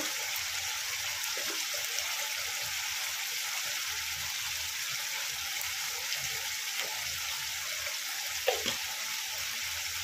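Paneer masala with turmeric sizzles in a frying pan as it is stirred, making a continuous bright crackle with a few soft scrapes and knocks from the utensil, and no talking.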